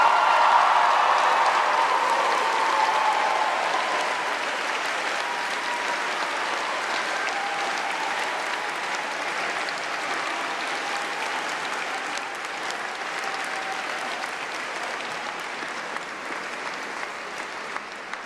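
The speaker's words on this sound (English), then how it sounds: "Now feel free to offer a round of applause." Sustained applause from a large commencement audience in a hall, steady and full for the whole span, slowly tapering in loudness toward the end.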